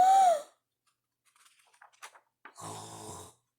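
A voice imitates the loud, rasping snore of an old hound dog in a read-aloud story, a single drawn-out roaring breath that comes after a brief spoken word and a few faint small noises.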